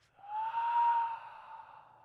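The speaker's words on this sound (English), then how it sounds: "breathing in through your nose and out through your mouth" A steady, soft exhalation through the mouth during an active yoga flow session, one long breath out that swells and then tapers off, close and quiet with no talking over it.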